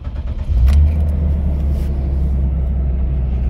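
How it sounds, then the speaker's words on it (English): A 2007 Toyota Hilux with the 1KD diesel engine cranks and catches, settling into a steady low idle rumble close by with no talk over it. "you can see in here when we start the car"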